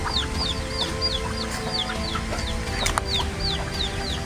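Chickens and roosters cluck around a farmyard at six in the evening during feeding time, with repeated short chirping calls over a steady, dense background of fowl murmuring and scattered clucks, fairly near and continuous.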